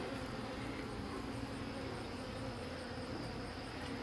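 A swarm of honey bees buzzes steadily and densely all around, a continuous close hum with no pauses and no voices.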